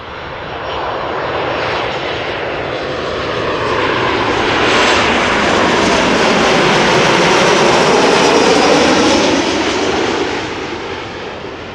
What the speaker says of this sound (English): Transavia 737 coming in from Preveza.